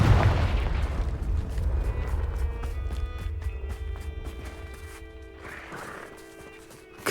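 A Confringo spell explosion in Hogwarts Legacy lands as a loud, deep boom that slowly fades, followed by scattered clattering debris and game ambience.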